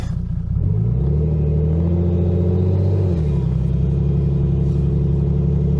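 Mercedes W201 engine revving hard and steadily with a rising then falling pitch, its wheels struggling for grip on winter tires; a loud, continuous, close drone with a deep rumble underneath.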